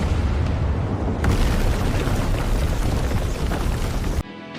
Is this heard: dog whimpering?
no